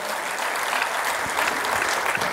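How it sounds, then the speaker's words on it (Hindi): Loud, sustained audience applause at Lucknow Public School's 2025 felicitation ceremony for high-achieving students, dense clapping filling the hall with a few sharper claps standing out near the end. "आप सभी से अनुरोध है कि एक बार जोरदार तालियों से उत्साहवर्धन करें,"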